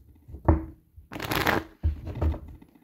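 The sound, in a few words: shuffling a deck of tarot cards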